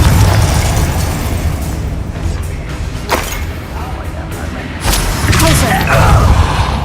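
A Confringo blasting spell detonates in a video game: loud, roaring bursts over a rumbling, busy background, with a sharp blast in the middle and another swelling boom near the end, and voices mixed into the din.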